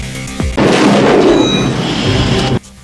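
A pistol fired at a truck's engine in a post-apocalyptic action film: a sharp blast opens into a loud, sustained roar of rumbling noise that cuts off abruptly after about two seconds.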